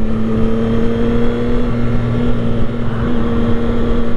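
A CF Moto 675 SR-R motorcycle pulls hard in a straight line with a steady, droning engine note and continuous wind rush, close and loud, with no one talking.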